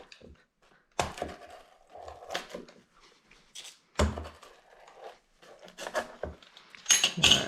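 A knife or cutter crunches through the crust of a cooled, crispy New York–style pizza baked in a Gozney Arc oven, with a series of close, dry cracks and scraping crunches coming in irregular bursts.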